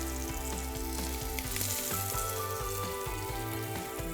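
Fish pieces frying in oil in a small pan, giving a steady close sizzle with light crackles and a low repeating hum beneath, with no talk.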